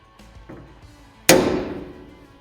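Center punch struck once against metal to mark a divot for drilling out a car's corner cap, a single sharp metallic tap that rings and fades, preceded by faint handling noise.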